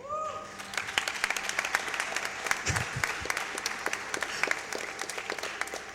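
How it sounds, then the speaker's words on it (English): Audience applause fills a speedrun charity marathon hall during a Metroid Prime run at SGDQ 2017, a steady wash of many hands clapping with scattered sharper claps throughout, loud and sustained for the whole stretch. "It's okay to clap."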